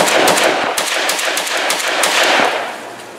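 An AK-pattern semi-automatic 12-gauge shotgun, an Izhmash Saiga 12 or Molot VEPR-12, fires a fast string of loud close shots emptying the magazine, then the echo fades out.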